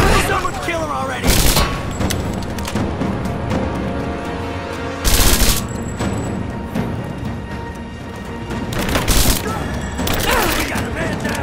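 Gunfire in the action game Rise of the Tomb Raider: three loud, sharp broadband bursts spaced a few seconds apart, over a constant rumbling battle bed with shouting and voices mixed in.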